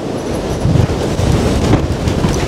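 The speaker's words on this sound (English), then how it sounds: "It's a windy one." Strong wind buffets the microphone with a constant low roar and rumbling gusts, no voices heard.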